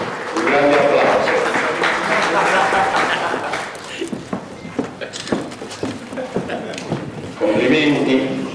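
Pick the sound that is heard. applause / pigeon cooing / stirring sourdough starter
applause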